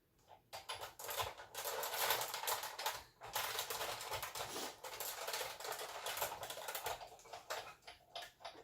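A Big Shot die-cutting machine cranks a die and template through its rollers, giving a steady ratcheting, clicking mechanical run with brief pauses, close and fairly loud with no talk.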